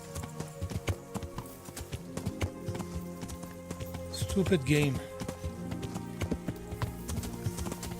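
Hooves of a horse in Kingdom Come Deliverance beat out a brisk, even clip-clop close by, continuing steadily while someone talks briefly partway through.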